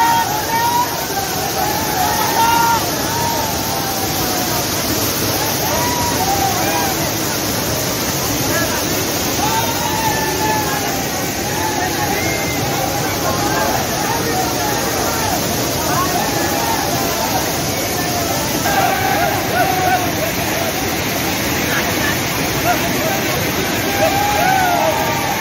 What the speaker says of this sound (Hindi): यहाँ झरना बहुत ही ज्यादा तेज बह रहा है